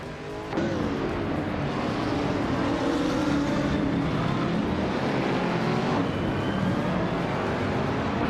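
Dense, loud engine roar from a pack of race cars in a racing video game, a sustained wash of overlapping motors with rising and falling pitch.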